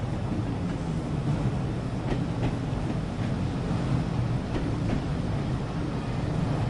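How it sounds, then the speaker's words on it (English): Rumbling rail noise of a train rolling over points in Train Sim World 2, a steady loud broadband roar with faint repeated clicks from the wheels, continuous throughout with no voices. "let's wait for the back of the train to pass over the points, and off we go"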